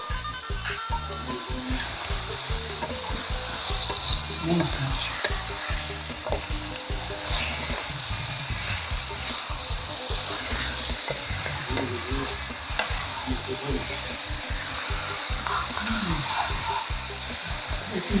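Chicken innards, liver and egg yolks stir-fry in a hot pan with curry paste, a steady loud sizzle and crackle running throughout with scraping spatula strokes, no talk.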